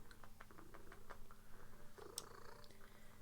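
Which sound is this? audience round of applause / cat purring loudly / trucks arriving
cat purring loudly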